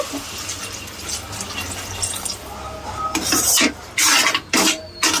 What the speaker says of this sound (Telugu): ఇందులో మనం నీళ్ళు అనేది పోసుకోవాలండి